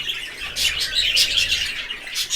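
Bright, high chirps from a budgerigar come in quick bursts, fairly close, over a steady background hiss, with no voices.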